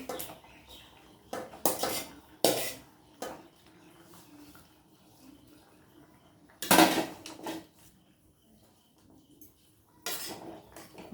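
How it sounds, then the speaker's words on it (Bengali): Egg omelettes being added to a boiling curry in a pot, heard as a few sharp clanks and scrapes of utensils against cookware, close and intermittent, with quiet gaps between. "ঝোলটা আমার ফুটেই গেছে। এবার আমি ডিমগুলো দিয়ে দেবো।"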